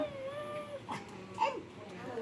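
A yellow cat gives a short, soft meow, with a second higher mew after it, faint against quiet background noise.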